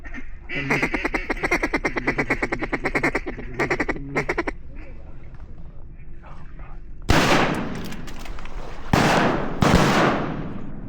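Shotgun blasts ring out during a public-land duck hunt in Arkansas, following a long stretch of rapid duck quacking from calls or birds. Three loud, sharp shots come close together near the end, with broad noisy decay.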